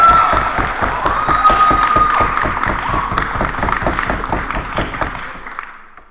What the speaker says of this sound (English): so give me an applause.